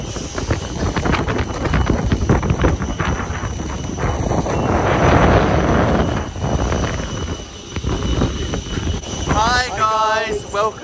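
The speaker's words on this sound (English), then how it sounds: "It's so bloody windy." Loud, blustery wind in Crete, Greece buffets the microphone in heavy roaring gusts, with a brief voice near the end.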